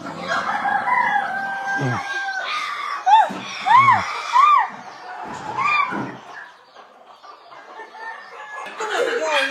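Country chickens and small chicks on a poultry farm in Koka: close hens clucking, high rising chick peeps, and a rooster crowing. The calls come in loose, overlapping bursts over a steady farmyard background.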